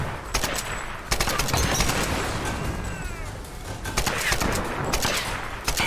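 Rifle gunfire in Tomb Raider (2013): rapid bursts of loud automatic shots crack in clusters with brief pauses, close and dominant, with scattered impacts between volleys.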